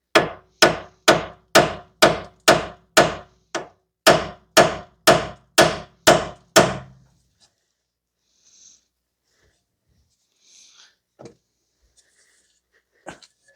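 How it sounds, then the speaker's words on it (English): Metal hammer blows strike the front wheel bearing assembly of a 2009–2019 Toyota Corolla, about fifteen sharp, evenly spaced bangs over seven seconds, then near silence with a few faint small clinks. "see if I can hammer here with everything in the way"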